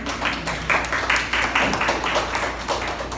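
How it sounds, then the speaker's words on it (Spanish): An audience at a motivational talk gives a short burst of applause: a dense, steady patter of many hands clapping at once, fairly close and moderately loud, with no voices over it. "un aplauso para ella"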